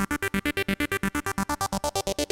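KingKORG synthesizer on the French Toast program running its arpeggiator, a fast, steady chain of about twenty evenly spaced synth notes, bright and close with no voices.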